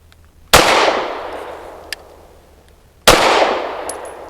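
Two loud, sharp shots from a KOR FX-9 pistol firing PMC 124-grain hollow point rounds at a range, about two and a half seconds apart, each with a ringing, decaying tail.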